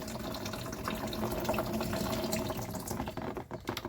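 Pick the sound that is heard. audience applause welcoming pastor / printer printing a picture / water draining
water draining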